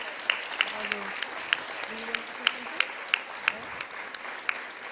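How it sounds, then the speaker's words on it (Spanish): Applause from an audience at a women's summit, a scattered patter of hand claps with sharp individual claps standing out, moderately near, while a voice speaks over it. "Y un aplauso para esas 3 damas y colegas"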